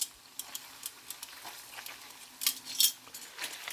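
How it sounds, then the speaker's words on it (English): Bacon deep frying in hot oil gives off faint, irregular crackles and sharp pops, scattered unevenly, with a small burst of louder spatters near the end. "Now you're starting to hear it sizzle."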